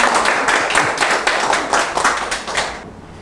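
Lecture audience applauding together for a few seconds, a dense steady patter of many hands at close range that stops abruptly at the end.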